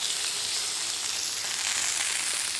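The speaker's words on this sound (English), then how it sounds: "Plonk the steak in it, and it must make that noise. It has to be sizzling hot." Steak sizzles steadily in a very hot pan, a constant bright hiss and crackle like light rain, close and moderately loud with no talking.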